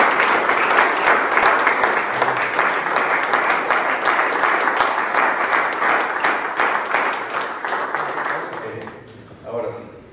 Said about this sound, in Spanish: Quiero le das un fuerte aplauso al Rey de Reyes